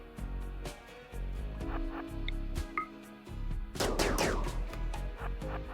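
Gunshots in a RimWorld hunting scene, a few brief synthetic cracks and a louder burst near the end, set against a droning game soundtrack with no talk over them.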